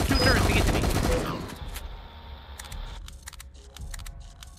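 Turret gunfire in a dinosaur horror video game: a dense, loud burst of rapid shots for about a second, then scattered sharp clicks and mechanical clatter over lower background noise.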